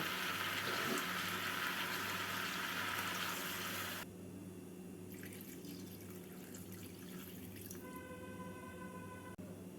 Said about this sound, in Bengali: এবার এর মধ্যে দিয়ে দেবো পরিমাণ মতো জল